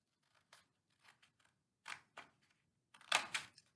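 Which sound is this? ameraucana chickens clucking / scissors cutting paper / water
scissors cutting paper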